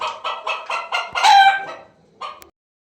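A chicken clucks in a quick series of close, loud bursts, rising into a short squawk, then one more cluck after a pause.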